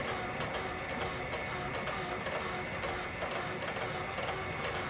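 A lathe takes shallow skip cuts on a cast iron train wheel, giving a loud, steady machining roar with a regular pulsing knock repeating several times a second, heard alone and close.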